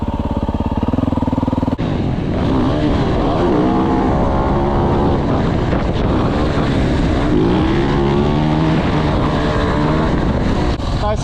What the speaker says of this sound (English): I'm gonna do some wheelies now.